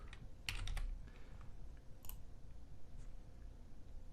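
A few quick keystrokes clatter on a computer keyboard, faint and close, in short scattered clicks with quiet pauses between.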